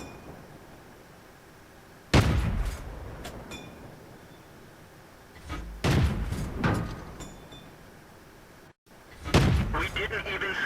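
Tank cannon shots in a video game battle involving a Hetzer tank destroyer, three loud booming blasts with rumbling decay spaced several seconds apart under a low background rumble.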